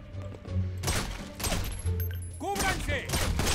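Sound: gunfire in video game GTA V

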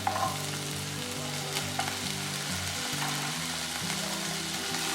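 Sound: tomato and potato frying in a pan

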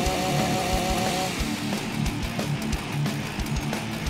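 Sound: chainsaw running in video game The Walking Zombie 2

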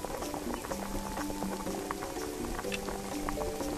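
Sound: chocolate drink boiling in a pot, from video game Lost Recipes

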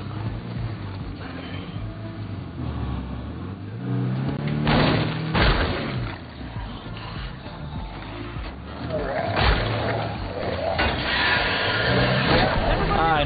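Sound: car reversing into zombies in a video game

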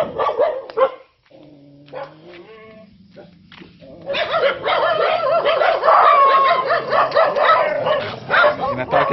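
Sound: dogs barking

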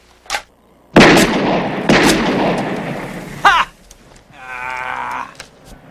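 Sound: gunshots shooting at beer cans at a target range

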